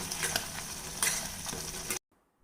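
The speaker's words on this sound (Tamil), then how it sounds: "மீடியம் ஃப்ளேமில் வச்சே தான் வதக்கிட்டு இருக்கேங்க" Tomato chutney with Kashmiri chili powder sautéing in a pan over a medium flame, a steady close sizzle with stirring scrapes, cutting off abruptly into near silence.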